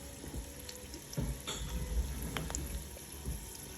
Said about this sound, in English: got the garlic sauteing in the olive oil